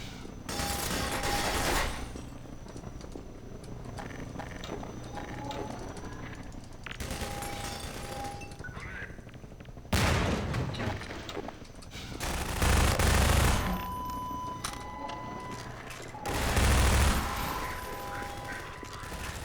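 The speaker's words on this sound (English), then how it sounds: "I'll just switch to the submachine gun for right now." Bursts of submachine gun fire ring out in Half-Life 2, several short rapid volleys separated by quieter stretches of mechanical game ambience.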